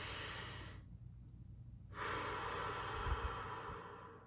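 Deep, slow breaths drawn in and pushed out near the microphone, a long airy inhale then a pause and a sustained exhale, with no talking.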